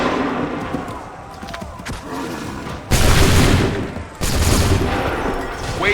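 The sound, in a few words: musket volley gunfire in video game Assassin's Creed 3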